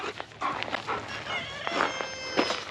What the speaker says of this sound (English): I cannot believe how much these two dogs play.